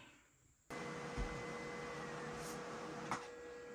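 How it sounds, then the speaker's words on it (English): A printer whirs to life abruptly after a quiet moment, running with a steady mechanical hum and a couple of soft clunks as it feeds. "hopefully my printer will act right and get this printed."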